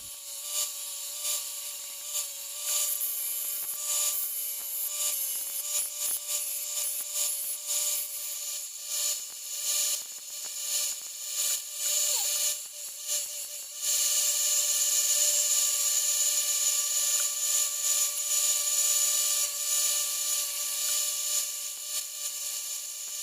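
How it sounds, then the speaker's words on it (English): A belt sander fitted with a 120 grit belt grinds a neck knife, a steady high whine with scratchy abrasive rubbing that shifts in pitch and intensity as the blade is pressed and moved, continuous and fairly close. "I would normally start out with a 60 or 80 grit belt for the rough sanding on this, but I am completely out."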